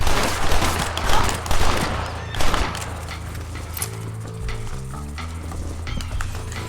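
Horse hooves clatter alongside bursts of gunfire in the Western video game Red Dead Redemption, loud rapid shots early on easing into quieter trotting with music underneath.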